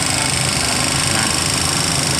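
A steady, dense mechanical clatter from a running Honda TMX 125 Alpha motorcycle engine with an abnormal ticking noise, close and constant, with a fast ticking buzz throughout and no pauses.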